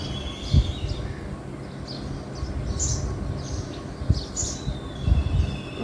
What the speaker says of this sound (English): I'm sure you can hear the birds.